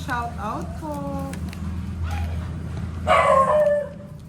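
Several dogs give short yips and barks close by, a brief louder whimpering yelp near the end, with a steady background hum.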